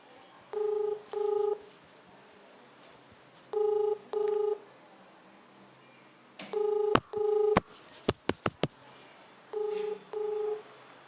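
A telephone dials out for a live call, giving off paired touch-tone beeps in repeated groups with short gaps between them, and a burst of sharp clicks on the line midway through.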